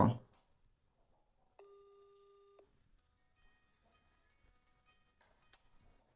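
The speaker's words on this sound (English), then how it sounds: "you now have ringing instead of the calling." WhatsApp video call ringing tone plays as one faint electronic ring lasting about a second, with soft clicks and quiet background noise around it.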